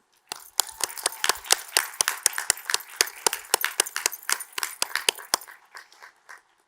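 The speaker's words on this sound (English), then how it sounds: "Will you please join me in a round of applause to recognize them?" A small group claps for faculty and staff at a commencement ceremony, with separate sharp claps in an uneven rhythm that is fairly close, quite faint, and fades out before a short silence.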